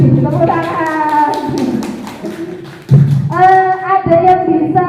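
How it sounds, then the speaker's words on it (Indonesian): Teachers in a school training session clap rhythmically in a classroom, loud sharp claps mixed with talking and laughter, the voices carrying over the beat throughout. "Tepuk tangan."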